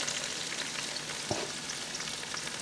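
Onions fry in butter in a pan with a soft, steady sizzle and crackle, fairly quiet, with a single light stirring knock partway through.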